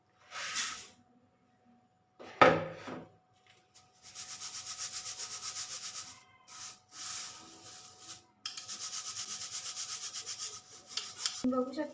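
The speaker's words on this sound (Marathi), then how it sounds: "हे बघा पोहे आपण चालून घेणार आहे" Flattened rice (poha), about two bowls, is shaken and rubbed in a sieve at home, giving soft repeated gritty swishing bursts that are fairly quiet, with a short spoken phrase near the start.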